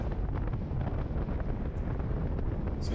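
A steady, loud headwind buffets the microphone during a weekend group bike ride, a continuous low roaring rumble that never lets up.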